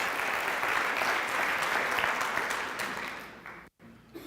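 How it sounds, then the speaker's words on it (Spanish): A seated audience gives a speaker dense, steady applause that holds for several seconds and fades near the end, followed by a brief gap and a faint voice. "Un fuerte aplauso para el señor Holton."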